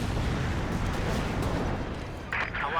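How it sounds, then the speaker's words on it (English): An anti-tank gun fires in a Company of Heroes 2 battle, a heavy, rumbling boom under a thick wash of combat noise, followed near the end by a sharper crack. "The AT gun's setting on up, and there it goes."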